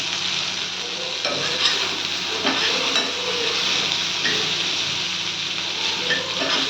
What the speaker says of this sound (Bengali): এটাকে একটু নেড়ে চেড়ে